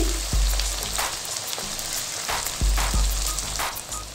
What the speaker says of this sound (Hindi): इस तरह से इनको लाइट सा अंदर भूनेंगे